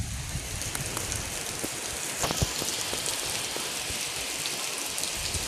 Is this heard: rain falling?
yes